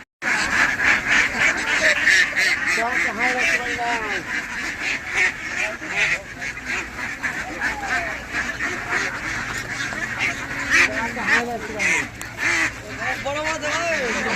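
Ducks crowd a duckling hatchery supply market, quacking and honking continuously and loudly up close, a dense overlapping flock chorus with people talking underneath.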